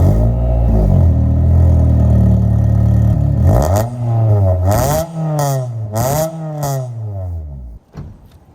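A 23-year-old Honda Civic with a cheap aftermarket exhaust starts up: steady rough idle, then several loud raspy revs rising and falling before it cuts off, with no talk.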